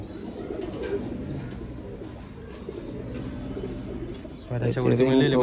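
An imported UAE pigeon with a ring on its leg coos close by in low, repeated murmurs; a voice cuts in loudly near the end.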